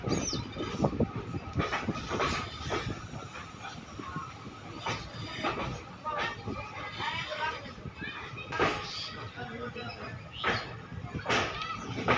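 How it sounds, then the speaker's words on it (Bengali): Train 13417 from Asansol to Malda rattles through small Kumani station, its wheels clattering in an uneven rumbling rhythm with occasional sharper knocks, while a person talks over the noise. "আমাদের ট্রেন এখন পার করছে কুমানি"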